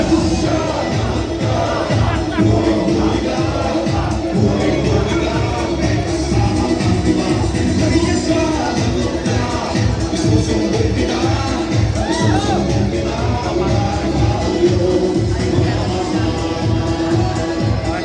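Crowd at a Pinoy wrestling match in a close venue, steady rowdy roar with shouts and rhythmic clapping, loud and continuous throughout, with voices mixed in.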